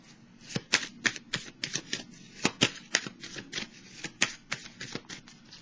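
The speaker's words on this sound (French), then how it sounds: "Allons-y avec des petites cartes pour déposer sur chacune d'elles" Tarot cards are handled and laid down one after another in a quick, uneven rhythm of crisp snaps and slaps, close and fairly quiet, with no voice over them.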